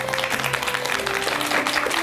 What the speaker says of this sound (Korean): 무대 위로 모시겠습니다. 큰 박수 부탁드립니다